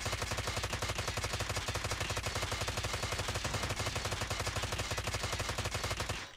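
Holger 26 light machine gun converted to an SMG fires in a video game recoil test: one long sustained burst of rapid, evenly spaced shots, loud and close, stopping abruptly at the end.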